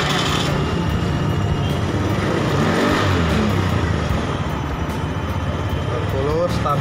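Honda Beat FI fuel-injected scooter engine running steadily after a fuel pump replacement, a close, buzzing idle with a slight throttle blip partway through, under people talking in a workshop.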